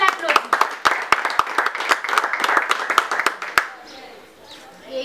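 A small audience claps for a foundation's social officer, a sparse run of distinct hand claps lasting several seconds before fading out, with a voice coming in at the end.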